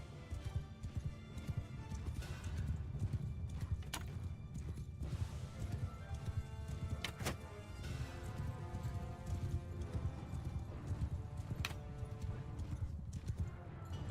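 In the Mount & Blade II: Bannerlord video game, horses of mounted troops clatter in a battle with dense, continuous clip-clop hoofbeats, occasional whinnies and sharp impacts, loud and close throughout.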